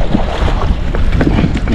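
A small sampan boat rocks on a river current, with low water sloshing against the hull under steady buffeting wind noise.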